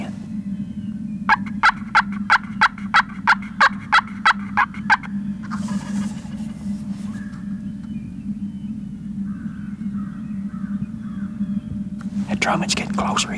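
Wild turkey gobbling in spring woods: a rapid rattling burst of about a dozen even pulses, moderately distant, then quieter rustling and faint whispering over a constant low hum.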